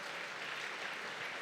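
Church congregation applauding during a sermon, a brief, even wash of many hands clapping at moderate volume with no break.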